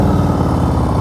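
A motorcycle engine turning over at low revs during slow-speed riding practice, a steady close rumbling drone with a throbbing low pulse, no voices.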